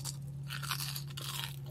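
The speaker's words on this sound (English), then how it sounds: "Did you hear that crunch?" A single crisp crunch of biting into french fries, close to the ear, over a steady low hum.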